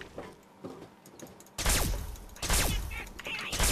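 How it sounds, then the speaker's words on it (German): Gunfire in the Fallout 3 video game sounds as a burst of rapid, loud shots with thuds and mechanical clatter, starting after a quieter stretch of game ambience. "ich schieße ihn voll in den Rücken und der ignoriert das einfach mal ganz bewusst"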